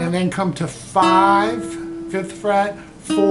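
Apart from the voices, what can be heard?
None of the usual background noises is heard.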